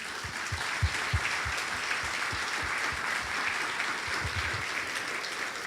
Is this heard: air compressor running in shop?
no